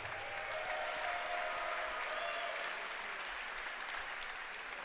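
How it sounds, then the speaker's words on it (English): A kickboxing fight-night crowd applauds after the opening contest, with dense, steady clapping that holds at an even level for the whole stretch and has a faint murmur of the crowd underneath. "a round of applause for one great opening contest"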